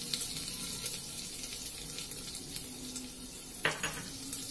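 Cumin and garlic-ginger paste being sautéed in a pan for daliya: a soft, quiet sizzle with light stirring scrapes and a sharper clink of a utensil near the end.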